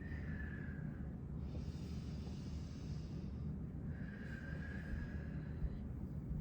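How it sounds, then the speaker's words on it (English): Steady, audible breathing in and out during a yoga session: two long, slow breath cycles with a soft airy rush, close and continuous, over a hissy background. "Breathing so that you can hear the breath coming in and out of you."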